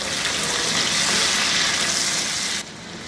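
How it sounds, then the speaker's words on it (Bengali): Garlic, bay leaf and tomato frying in hot oil in a pan for a Bengali egg curry, a steady loud sizzle that holds evenly, then drops suddenly near the end. "তেজপাতা আর টমেটোটুকু দিয়ে একটু ভেজে নিব"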